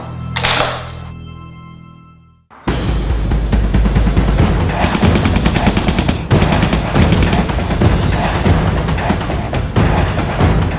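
Gunfire at a shooting range in the video game Turok Evolution: after a short lead-in, loud rapid bursts of automatic shots run continuously and close up.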